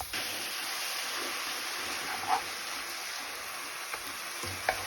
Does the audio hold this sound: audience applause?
no